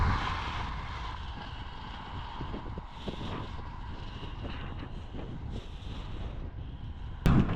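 Strong wind buffeting a microphone while cycling on a road, a constant rumbling roar with gusty surges and a sharp thump near the end, with no voices.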